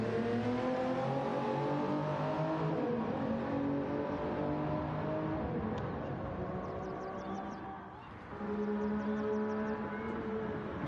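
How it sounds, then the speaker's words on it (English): A GT3 race car engine in a racing video game drones at high revs on the Spa circuit, pitch bending as it runs, dipping briefly near the end before climbing again; no voices. "Smooth running car."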